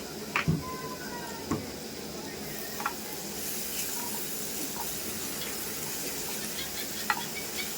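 Eggplant frying in mustard oil with spices in a home kitchen, a steady soft sizzle with a few sharp clicks and stirring knocks, fairly faint and close.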